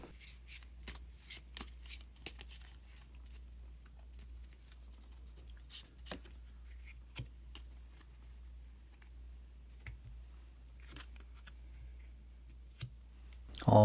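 Tarot cards being shuffled and drawn in a quiet room: soft scattered clicks and riffling snaps of card stock, some in quick clusters, others spaced apart, faint and close with a low hum beneath.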